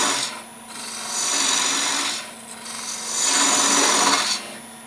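A spindle gouge cuts a taper into wood spinning on a lathe, giving two sustained rasping passes of about a second each, separated by short pauses, loud and close with no talking.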